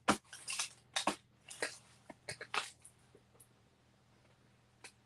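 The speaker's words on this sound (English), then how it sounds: "Oh, Teflon scissors." Teflon scissors snip through purple patterned cardstock in a series of quick, close, crisp cuts, clustered in the first few seconds before trailing off into quieter handling sounds.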